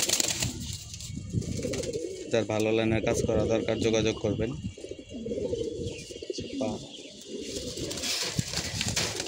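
Pigeons, including racing birds kept for tournaments, coo softly in the background while someone talks over them almost throughout.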